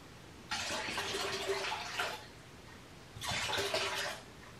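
Liquid jet cleaner being poured into a measuring cup, two separate close splashing pours, each lasting about a second and a half, with quiet room sound in between.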